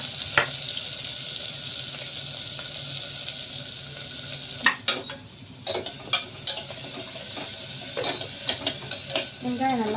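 Onions sautéing in a pan for Tamil-style chicken curry, a steady soft sizzle with occasional sharp clinks and scrapes of a spoon stirring against the pan, close up.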